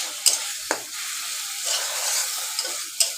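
Mutton sautéing in a pan gives a steady close sizzle, with a few sharp clinks of a spoon against the pan.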